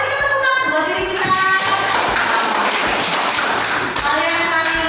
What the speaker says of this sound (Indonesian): Mari kita tepuk tangan buat diri kita.